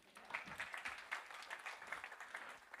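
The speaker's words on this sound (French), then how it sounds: "on peut l'applaudir" A church congregation gives a short round of applause, soft and somewhat distant, with steady overlapping claps and no voices over it.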